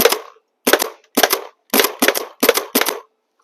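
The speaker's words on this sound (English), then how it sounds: "I used a lot of paintballs." Paintballs strike a plastic pressure washer in six sharp, loud bursts, each a quick cluster of cracking impacts separated by brief silences.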